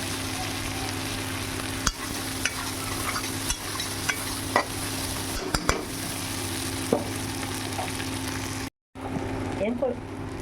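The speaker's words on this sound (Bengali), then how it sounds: "এদিকে আমার চিংড়ি মাছটা ভাজা হয়ে গেছে" Prawns sizzle in a hot pan while being stirred, a steady crackling fry broken by sharp scraping clicks of the utensil every second or so, then a brief cut to quieter stirring near the end.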